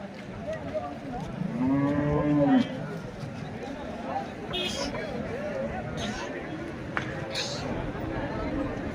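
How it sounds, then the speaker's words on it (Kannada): Oxen lowing at a busy bull market in Kalghatgi, one long drawn-out moo rising over steady crowd chatter and livestock noise, with people talking nearby throughout. "ಕಲ್ಗಡ್ಡಿ ಸಂತೆಯಲ್ಲಿ ಈ ಥರ ಎಲ್ಲ ಎತ್ತುಗಳು ಬಂದ ನೋಡ್ರಿ"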